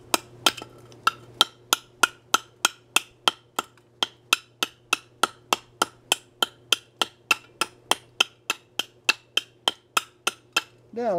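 Knife chopping through Kumaru hardwood, a long, evenly paced run of about thirty crisp, sharp knocks, close and clear over a faint steady hum, with no talk.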